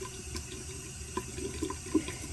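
Hot water runs steadily from a tap into a sink while a metal piece is reheated for a liver of sulfur patina, a soft continuous splash with a few small drips and plinks, no talk.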